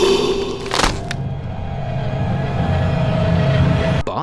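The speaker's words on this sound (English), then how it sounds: "great ghostly sound effects that range from the creature thumping around looking for you" In the horror video game Phasmophobia, a ghost creature thumps around, with a heavy thud near the start, a low rumbling ambience that follows, and a sharp knock at the end.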